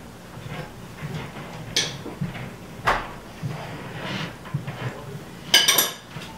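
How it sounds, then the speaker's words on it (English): A large Dutch oven is picked up and set down on a stovetop, giving a few scattered metallic clanks and knocks, the loudest near the end, over quiet kitchen background with no talking. "I'm going to grab a large Dutch oven"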